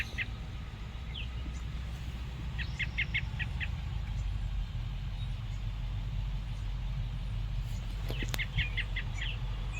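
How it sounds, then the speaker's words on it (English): Faint birds chirping in a garden in short clusters of high calls over a low, steady rumble of a nearby idling car. "You can hear the birds."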